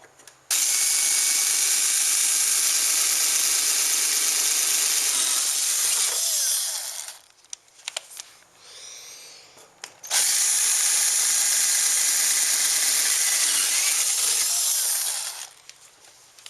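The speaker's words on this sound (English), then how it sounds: "I'll go ahead and drill the new holes in the fairing using the pattern as a jig." A power drill whines loudly through a plastic motorcycle fairing on a Kawasaki Ninja 250 in two long bursts, separated by a brief pause with small clicks and handling noises.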